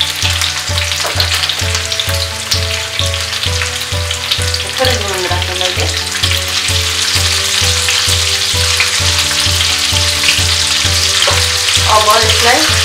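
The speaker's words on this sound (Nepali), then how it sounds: "अब यसलाई खालि 1-2 मिनट जति हल्का फ्राई गरौँ।" Medium onion cut into large chunks frying lightly in a pan for chili momo, a loud, continuous sizzle with regular stirring scrapes throughout.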